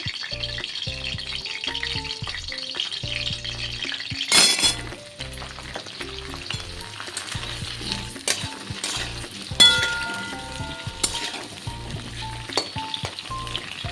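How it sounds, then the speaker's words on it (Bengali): Potatoes frying in oil in a home kitchen pan, a continuous crackling sizzle with frequent stirring scrapes and occasional metallic clinks, two louder bursts along the way, no talking. "এবার ওই একই তেলের মধ্যে আমার আলুগুলোকে ভেজে নেব"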